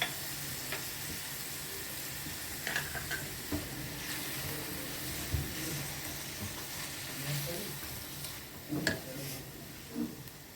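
Chopped tomatoes and green chilies frying in oil on a tawa, a steady soft sizzle with occasional stirring clicks and spoon taps throughout.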